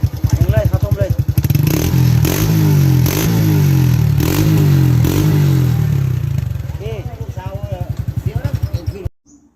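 A motorcycle fitted with a new M Speed exhaust idles with a throaty note, then revs up several times in loud, close bursts before dropping back and cutting off.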